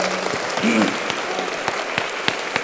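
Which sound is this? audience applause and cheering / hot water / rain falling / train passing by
audience applause and cheering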